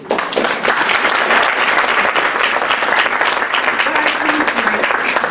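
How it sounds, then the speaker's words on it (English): Audience at a speaking event applauding steadily and fairly loudly for several seconds, dense sustained clapping with a faint murmur underneath. "You have to give yourself an applause"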